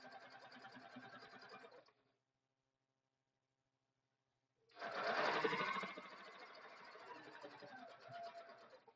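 A sewing machine stitches a seam on a bowler bag, running steadily for about two seconds, pausing in silence, then starting again louder and continuing to the end.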